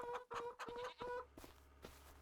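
Chickens clucking in Farming Simulator 25, a few close, loud clucks and squawks in quick bursts, then quieter fowl noises over a low background hum.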